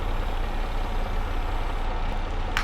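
A vehicle engine idles in a 1990s-set survival roleplay video game, a steady low rumble holding at an even level throughout with no talking.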